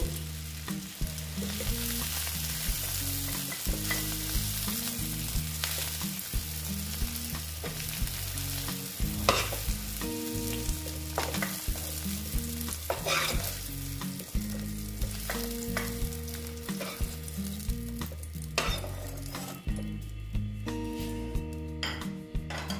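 Onion stalks fry in hot oil in a pan while cooking a katla fish curry, giving a constant loud sizzle with stirring and occasional light clinks of a utensil against the pan.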